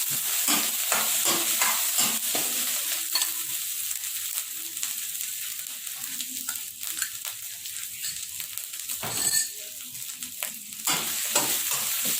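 Pounded curry paste for a Thai beef curry (gaeng om) stir-fries in a hot pan, sizzling steadily with repeated scraping strokes of the spatula close by.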